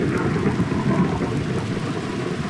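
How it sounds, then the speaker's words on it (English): Steady rain pours in the Minecraft video game, with a low rumble of thunder rolling underneath, a dense continuous wash that stays even and moderately loud throughout. "Yeah, it's fucking raining."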